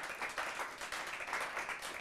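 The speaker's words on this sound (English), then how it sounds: "Can we have another round of applause for the young people today?" An audience gives a round of applause for young students, steady close clapping from many hands filling the whole moment without any talking.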